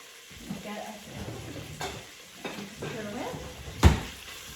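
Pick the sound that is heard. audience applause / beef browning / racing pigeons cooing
beef browning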